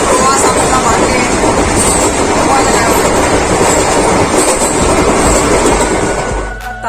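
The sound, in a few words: inside a moving passenger train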